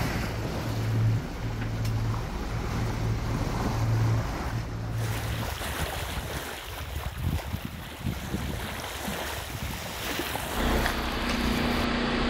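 Sea swell from the Ionian Sea rolling along the Zakynthos coast, heard from a sailboat as a continuous rushing wash of waves mixed with wind buffeting the microphone, with a few louder splashes midway.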